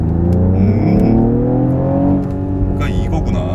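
A Mercedes-AMG GLE 53 SUV with a six-cylinder engine accelerates, its engine note rising steadily and loud up close, with someone talking over it.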